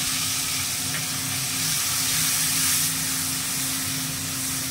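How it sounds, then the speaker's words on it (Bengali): A loud, continuous sizzle and hiss comes from a cumin and turmeric spice paste frying in a pan with water added. The steady sound swells slightly partway through, and no one speaks. "এবার জল দিয়ে এটা কষিয়ে নেবেন, আর মশলাটা পুড়ে যাবে।"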